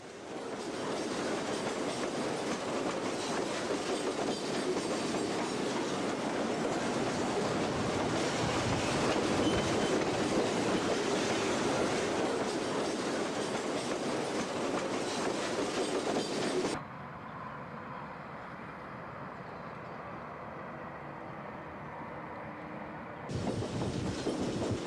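A Missouri Pacific train pulling out of a depot rumbles and clatters steadily along the rails, wheels clicking and squealing faintly, then the noise drops abruptly before swelling again near the end.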